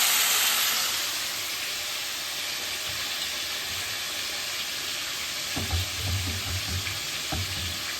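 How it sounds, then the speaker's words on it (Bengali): Marinated chicken pieces fry in hot oil with a continuous close sizzle and hiss, joined later by a few louder bursts of stirring and spattering. "চিকেনটা হ্যাঁ, অনেকটা ভাজা হয়ে গেছে"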